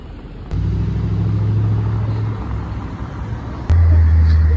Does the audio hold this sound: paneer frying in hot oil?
no